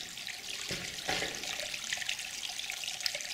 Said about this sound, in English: there's some water here percolating out of the wall